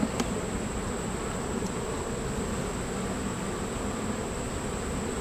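Honeybees hum at a hive in a faint, steady drone under a broad, even hiss of background noise.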